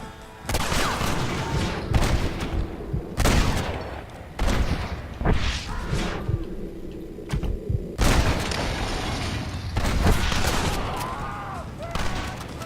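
Gunfire from a Red Dead Redemption shootout, with dense bursts of loud shots and booms in rapid, irregular volleys, mixed with shouting voices and game noise throughout.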